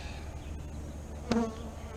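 Saskatraz honey bees from an overwintered hive buzz steadily through a spring hive inspection, a soft continuous drone with one brief louder burst near the middle.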